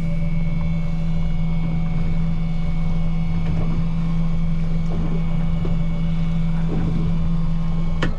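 A fishing boat motor idles in reverse at low speed, a steady deep drone with a constant hum from close by, wind noise faint in the background.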